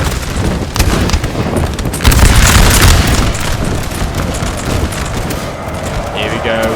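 French infantry in Napoleon Total War firing musket volleys, dense loud crackling bursts of gunfire rolling together with booming reports, continuing throughout.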